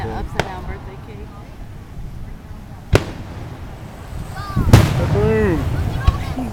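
A home fireworks show sets off four sharp, loud bangs spread unevenly over a few seconds. Excited voices are heard around the third blast, with a low outdoor rumble underneath.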